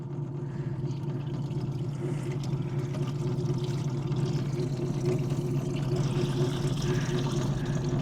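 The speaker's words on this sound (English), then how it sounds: "So you get more water squeezed out of your clothes." A vintage Maytag wringer washer runs steadily up close as its rollers squeeze water from clothes, giving a continuous low mechanical hum with a splashy, trickling wash of water over it.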